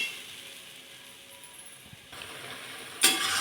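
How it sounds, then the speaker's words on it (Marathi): Tomato paste cooks in hot oil in a pan, a soft, steady sizzle with faint stirring clinks that swells louder near the end. "तेलामध्ये टॅमॅटोची पेस्ट अशी भाजून घ्यायची"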